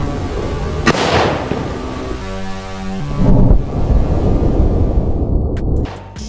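A homemade pipe firecracker goes off with a sharp, loud bang, followed by crackling debris and a brief buzzing tone, then a second burst of noisy rumble outdoors before fading.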